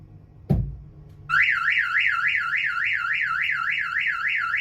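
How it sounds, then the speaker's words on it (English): A sharp thump, then a loud car alarm from an Alpine Type R setup in a Mk7 Ford Fiesta starts wailing with a rapid, repeating up-and-down siren tone that continues steadily. "the customer will be alerted to his car alarm going off"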